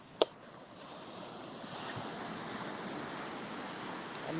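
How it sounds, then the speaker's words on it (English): Ocean surf washes onto a shore in a steady broad rush, with wind buffeting the microphone and a sharp click near the start. "This is the ocean, guys."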